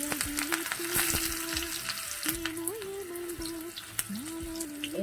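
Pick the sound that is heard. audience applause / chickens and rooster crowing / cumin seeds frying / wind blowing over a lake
cumin seeds frying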